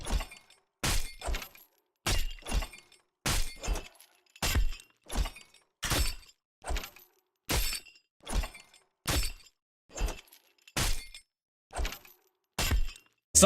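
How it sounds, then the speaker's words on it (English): Bottom Feeder pickaxe swings in the Fortnite video game, with a chain attached. Around seventeen sharp, crunchy impacts with metallic clinks repeat at a steady pace, each a short burst separated by near silence. "I love hearing the chain as you swing this pickaxe."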